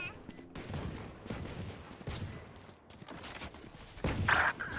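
A competitive ranked shooter video game: bursts of gunfire crack repeatedly in quick succession, with a heavier volley near the end over a busy game soundscape.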